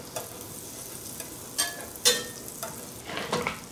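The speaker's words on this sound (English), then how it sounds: "Melt the butter down." A tablespoon of butter melting over medium heat in a pan, a soft fizzing sizzle broken by several sharp crackles and pops, close and without voices.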